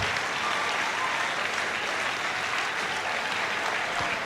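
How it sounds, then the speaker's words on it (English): Steady, dense applause from an audience at a middle school moving-up ceremony for graduates heading to high school, sustained and even throughout. "give them a round of applause, guys."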